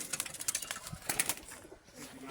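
Pigeons coo close by in a quick burst of soft, rhythmic, throaty calls.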